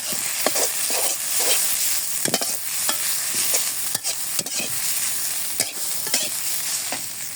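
Leafy greens fry and sizzle loudly in a pan outdoors in a village while being stirred, with irregular scraping strokes of the spoon over a constant hiss, close and with no talking.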